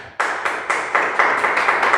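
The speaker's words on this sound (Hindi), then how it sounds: "प्रभु के लिए ताली बजा दीजिए" A church congregation claps in a steady, even rhythm, roughly four claps per second, moderately loud and sustained without voices.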